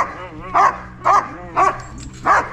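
Several big dogs bark in four loud, evenly spaced bursts at close range, with some whimpering tones between barks, at a family Christmas gathering.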